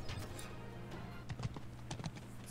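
Horse hooves clip-clopping in the Three Kingdoms Zhao Yun action RPG, a quiet, fairly rapid run of hoofbeats with game ambience behind, heard without talk.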